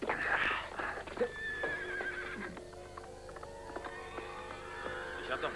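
A horse on a ranch lets out a shrill neigh and whinny, followed by snorts and a few hoof clops, fairly close amid faint background noise.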